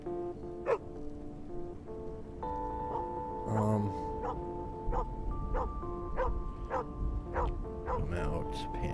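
A dog yips and barks in short repeated bursts over a soft musical backdrop in the video game Where the Heart Leads, fairly faint and spaced out, with one whimpering cry near the middle.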